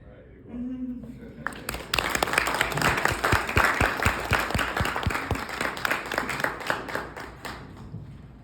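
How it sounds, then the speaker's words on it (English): A crowd claps for award recipients, the applause swelling after a quiet start into dense, even clapping that holds steady to the end, with voices mixed in. "let's give our award recipients one more round of applause"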